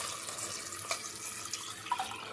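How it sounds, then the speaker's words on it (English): Water pours from a tap into a pot of rinsed chickpeas, making a steady splashing rush with a few brief louder splashes, heard close and alone. "So I'm going to add more water to it"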